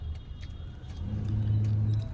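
A car engine revs up gently in bumper-to-bumper night traffic, a low hum that swells steadily in the second half under faint background road noise.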